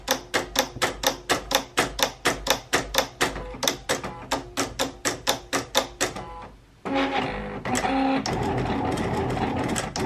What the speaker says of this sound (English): now it's actually cutting the material. So what it's doing is cutting those holes in there for the rhinestones to fit in there